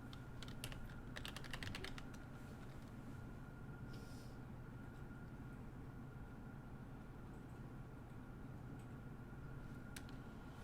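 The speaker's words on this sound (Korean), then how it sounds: "여기에다가 뭐라고 치세요? 예, 덕수궁이라고 치세요." Computer keyboard typing, a burst of quick clicks in the first two seconds followed by sparse keystrokes over a steady low background hum.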